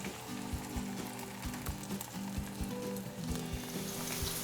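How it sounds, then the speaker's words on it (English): Plantains laid into hot oil while preparing a Cuban shrimp stew, frying with a steady close sizzle punctuated by a regular series of low thumps and clatters, loud and continuous throughout with no voices. "once the oil is feeling pretty hot, we can add the plantains"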